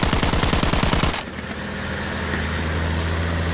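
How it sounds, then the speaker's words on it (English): A heavy machine gun fires in a tank combat video game: a fast, loud burst of rapid thudding shots lasts about a second, then cuts to the steady hum of an idling engine. "my main gun is like a heavy machine gun thing"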